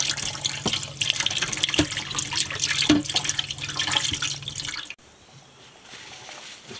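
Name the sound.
water and soap washing a cooking pot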